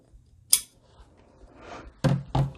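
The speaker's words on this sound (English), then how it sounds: "And then just cut off this little bit of extra" Scissors snip the extra length of wired ribbon from a large bow, one crisp close cut followed later by two louder, heavier snips, with soft handling rustle in between.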